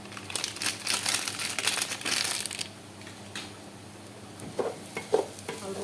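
Biryani spices are stirred into meat in a pot, making scraping, crinkling stirring strokes over a light sizzle that grow busy at first, then ease off to a few isolated scrapes near the end.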